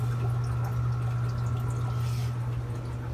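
Filtered water trickles steadily into the reservoir of a homemade drip irrigation system, a continuous soft pour over a constant low electrical hum.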